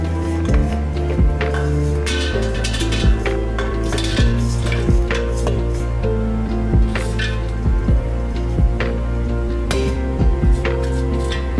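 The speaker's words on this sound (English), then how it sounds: "Sprinkle 1/3 teaspoon of salt, toss and stir to coat evenly." Salted cashews tossed and stirred in a bowl, a steady run of light clinks, scrapes and rattles as the nuts tumble against the sides, close and clear over soft background music.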